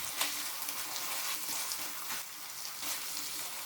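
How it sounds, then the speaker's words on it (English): Beef chow mein noodles stirred in a hot pan with soy sauce, a steady close sizzle with occasional scraping stir strokes and no talking. "So I'm just going to give the mixture a few final stirs."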